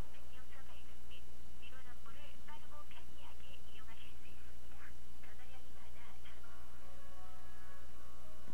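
Telephone call to a Korean public health office's health insurance line that will not connect, with repeated electronic beeps and tones in short bursts over a steady low hum, ending in a sustained tone.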